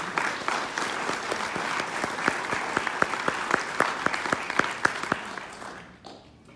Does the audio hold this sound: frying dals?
no